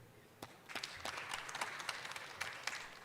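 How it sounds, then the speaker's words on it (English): A conference audience at a tourism resilience event claps for the MC, starting with a few scattered claps and building into steady applause from a moderately distant crowd. "A good round of applause for our great MC."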